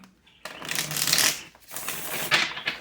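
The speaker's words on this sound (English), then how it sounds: "last shuffle" Tarot cards are shuffled in two quick riffling bursts, crisp and close, with a short pause between them.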